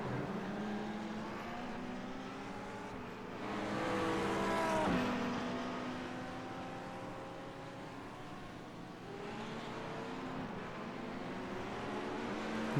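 Several GT3 race cars, including a McLaren and a Ferrari, roar around a circuit in a racing video game, with a steady engine drone, overlapping revving whines and a louder car sweeping past near the middle.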